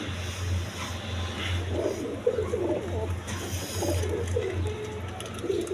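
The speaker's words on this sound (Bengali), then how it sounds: "এইখানে এক পেয়ার আপনার শার্টিং কবুতর আছে" Pigeons kept for sale, including a pair of light-coloured blackless shirting pigeons, coo in low steady rounds close by, with faint background noise and brief bits of higher chatter.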